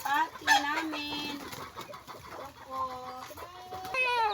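Chickens cluck and squawk nearby in short bursts, with a person talking over them and other birds faintly in the background.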